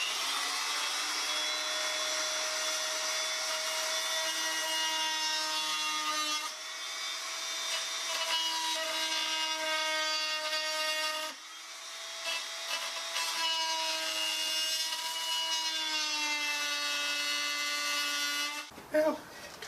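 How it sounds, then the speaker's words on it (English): An oscillating multi-tool fitted with a wood-cutting blade saws through the end of a wooden piece for a DIY gallows Halloween decoration, giving a loud, steady high-pitched buzz that shifts pitch slightly as the cut progresses and stops near the end. "I recently got this oscillating tool, so I've put a wood cutting attachment on it."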